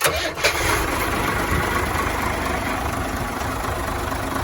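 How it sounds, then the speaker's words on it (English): A bus's large diesel engine, started from a switch at the rear, cranks and catches, then settles into a steady, loud rumbling idle that continues without pause. "One of the cool things about this engine, he showed me, you can start from the back."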